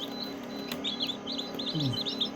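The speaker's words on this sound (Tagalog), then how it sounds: "Malalaki yung mga sisiw natin guys." Native chicken chicks chirping in short, high peeping bursts, moderately close, over a low steady background hum, with no talking.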